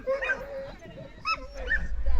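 American Pit Bull Terriers yip and whimper at an outdoor dog show, with a few short barks and whines under background chatter and low rumble.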